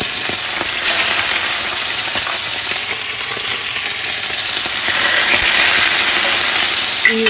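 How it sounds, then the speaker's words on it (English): Chicken breasts sear in olive oil in a pan with a steady, dense sizzle and crackle that holds at a constant level throughout, with no talking. "you let them sear in that olive oil until they're browned on both sides"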